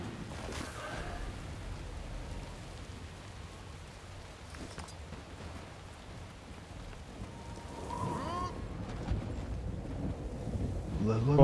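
In the Guild Wars 2 video game, faint storm wind gusts and rain patter steadily, swelling slightly toward the end.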